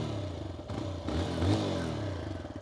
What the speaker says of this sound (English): When I press the starter button, it very quietly comes to life, and this exhaust note, by the way, is very throaty and it is very noticeable.